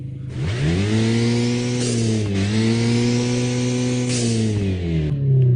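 A procedurally generated car engine in an Unreal Engine 5 video game whines steadily, its pitch dipping and rising with the revs and holding a loud, continuous tone for several seconds with no voices.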